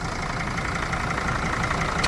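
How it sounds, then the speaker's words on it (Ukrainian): A 2006 Mercedes Sprinter 416 van's 2.7-litre diesel engine idles steadily, a dense, even rumble with a faint knocking texture that holds at one level throughout, close to the listener, with no voices. "заведений двигун"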